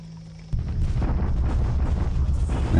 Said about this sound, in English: There's the Japanese bombardment at Vigan.